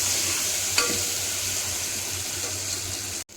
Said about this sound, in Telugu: ఈవెన్గా కలిసేటట్టు కలుపుకోవాలి.